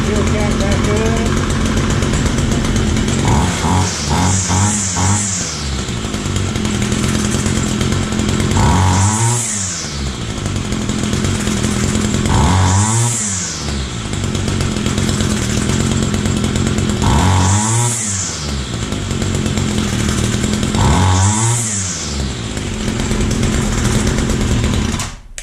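Homelite string trimmer's small two-stroke engine running on a replacement carburetor, loud and close, idling then revving up sluggishly and dropping back several times in a steady cycle.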